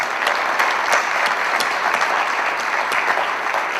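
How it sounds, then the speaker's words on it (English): Sustained audience applause at a school awards ceremony honoring student athletes and their families, dense and steady clapping from a large crowd, close and loud throughout with no talk. "Folks, one more round of applause for the families and the student athletes"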